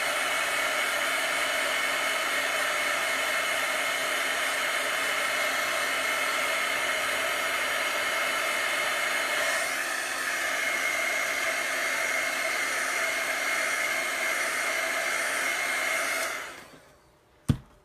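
Handheld hair dryer blowing over a chalk paste transfer, a steady whirring motor hum with airy hiss that holds evenly for about sixteen seconds before switching off, followed by a brief click, with nobody speaking.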